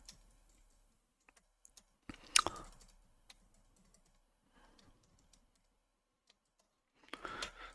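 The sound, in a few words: computer mouse clicking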